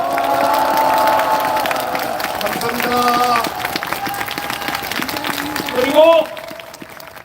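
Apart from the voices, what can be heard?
audience applause at a rally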